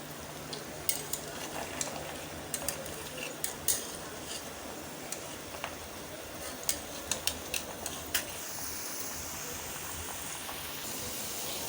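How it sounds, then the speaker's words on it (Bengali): Potato snacks fry in oil in a wok with a soft, steady sizzle. Scattered sharp clicks and taps of a utensil against the pan punctuate it, and no one speaks. "এখন আমি এগুলোকে ভালো করে ভেজে নেব"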